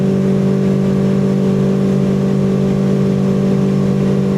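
The outboard motor of a fishing boat runs at high revs, a loud, steady droning hum that holds constant without a break and with no talking.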